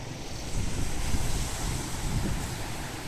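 Waves and wind on a Caspian Sea beach make a loud, continuous roar of surf, with gusts buffeting the microphone and no voices.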